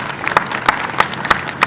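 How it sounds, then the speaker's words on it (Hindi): Audience clapping at a community gathering of cobblers, heard as a steady wash of applause with a few sharper loud claps standing out at intervals. "उनका भी ताली बजा के आप स्वागत करें।"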